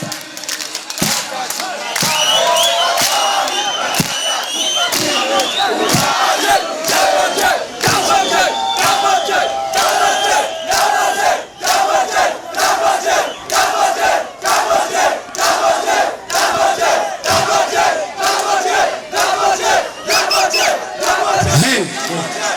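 A large crowd of fans at a live music event claps hands together in a fast run of sharp, repeated claps over a steady background of cheering and shouting, loud and close throughout.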